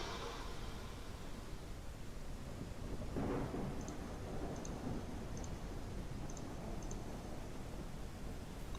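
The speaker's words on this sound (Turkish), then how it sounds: "Oo, yağmur mağmur arttı ya" Steady rain with rolling thunder in the farming video game Ranch Simulator, a continuous wash of dense rainfall with a thunder swell near the middle and faint high chirps over it.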